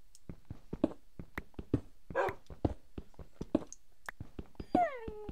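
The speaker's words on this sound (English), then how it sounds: "Stop whining. What do you want me to do, dog?" Dog whining in the Minecraft video game, a series of short high whimpers and yelps repeating quickly over a busy background of clicks and small game sounds, close and moderately loud.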